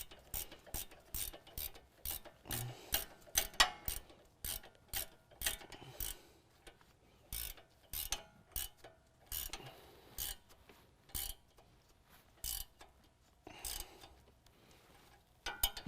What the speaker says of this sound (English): Now I can use a 15mm to tighten up my drag link adjuster.